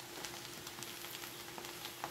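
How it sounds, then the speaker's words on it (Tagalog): Pork pieces frying in a pan for bopis, with a steady close sizzle and scattered sharp pops crackling through it, no voices. "Medyo na prito na siya. Ayan o, pumuputok-putok na siya."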